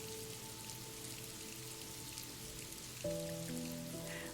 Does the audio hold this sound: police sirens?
no